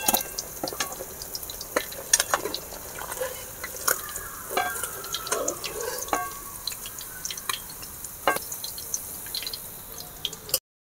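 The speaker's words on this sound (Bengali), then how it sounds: "এভাবে আমি সমস্ত মাছ ভেজে নেব" Fish frying in oil in a small wok, two pieces at a time, with steady close sizzling and crackling broken by sharp pops and drip-like spatters throughout.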